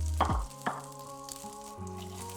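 Chopped onion sizzles and fries in leftover fat in a pan, a steady hiss with a few brief clatters near the start and a low hum underneath.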